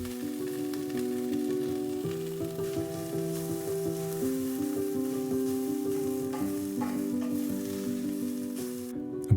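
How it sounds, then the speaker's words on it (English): Chickpeas and bamboo shoots hit a hot pan with a tablespoon of chili oil and sizzle steadily and up close, a bright continuous frying hiss under soft background tones with no talking. "add a tablespoon of chili oil, chickpeas and bamboo."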